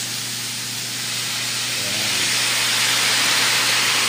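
Steady, loud hiss of steam escaping a pressure cooker while pork sinigang cooks, a continuous broadband rush over a low hum that swells slightly toward the end.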